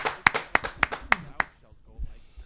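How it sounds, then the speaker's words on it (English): A quick burst of about seven hand claps, close and fairly loud, with a voice talking around and after them in a casual podcast setting. "Once again, clap it up."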